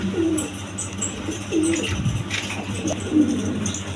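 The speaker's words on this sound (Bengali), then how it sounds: "এক পেয়ার শৌখিন কবুতর আছে" Low, soft coos from a pair of fancy pigeons repeat several times, nearby, over a busy background with faint chirps.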